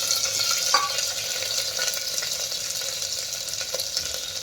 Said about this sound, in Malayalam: അതുമിട്ട് നന്നായിട്ട് നമുക്കൊന്ന് ഇളക്കാം.